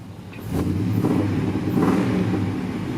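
A truck engine idles with a low rumble, then revs up twice in quick surges before settling back, heard close and steady.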